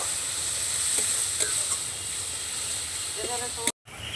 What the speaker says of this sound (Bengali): এবার লঙ্কাটাকে একটু ভেজে নেব।